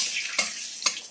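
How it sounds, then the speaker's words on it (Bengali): Bay leaf, five-spice seeds and dried chilli frying in hot oil, a bright continuous sizzle close up with two quick sharp crackles or stirs, no voices. "এটা একটু ভাজা হোক।"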